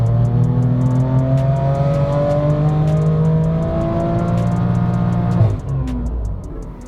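A BMW M3 F80 engine revving hard on a dyno, a loud, close, steadily rising drone with a tonal whine that climbs through the gears before dropping off sharply near the end.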